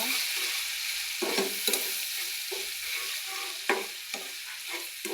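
Eggplant curry with salt and turmeric being stirred in a frying pan, a steady hiss of frying broken by repeated scraping strokes of the spoon, close and clear with no talking.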